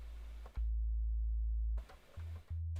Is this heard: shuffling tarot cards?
no